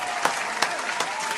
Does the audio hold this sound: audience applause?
yes